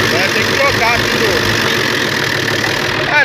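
FNM 180 truck engine idling unaccelerated after three years parked, in need of new filters, a loud close rough diesel rumble running steadily throughout.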